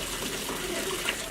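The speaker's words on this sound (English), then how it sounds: "water's coming out of the pipe, the end of the pipe here is being vibrated up and down a little bit" Water gushes out of the end of a pipe that is being vibrated up and down, a steady, full splashing rush heard close and unbroken for the whole moment.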